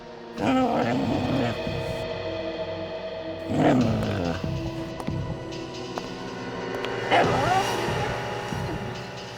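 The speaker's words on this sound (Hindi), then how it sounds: "ये कुत्ता रो रहा है।" A dog cries with long, wavering, moaning howls in three separate bursts over a low steady background hum.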